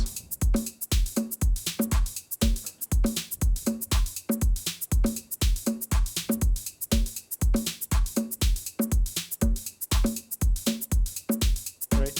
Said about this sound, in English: what if I take those snares and I put them on a 2-3 rhythm instead of this just a straight offbeat